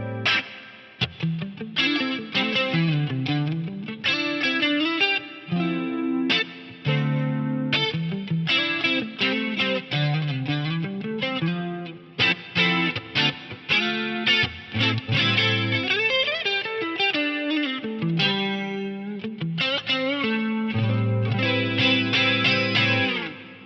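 Electric guitar played through an Axe-Fx III with its South Church reverb, a Bricasti-style hall, rings out in a continuous melodic line with long, washy tails and a slightly driven tone.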